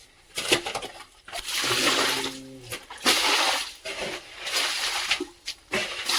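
Water gushes and splashes in surging bursts while flowing to irrigate a farm field, close and fairly loud, with brief dips between the rushes.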